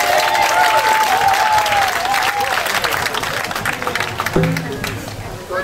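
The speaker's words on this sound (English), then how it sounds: "Let's give a big round of applause" An outdoor crowd at an Irish Fest and NB Day gathering claps and cheers in a sustained round of applause, loud at first and gradually tapering, with voices mixed in amid the crowd noise.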